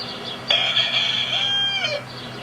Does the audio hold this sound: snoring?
no